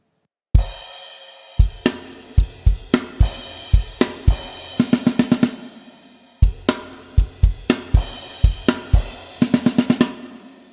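A drum kit plays a song, with sharp kick and snare hits and bursts of crash cymbals, loud and close, in two repeated rhythmic phrases and no talking.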